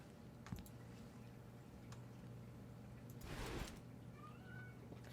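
A cat meows in the video game The Medium, one brief mewing call over a steady low game hum, with a few soft ticks around it.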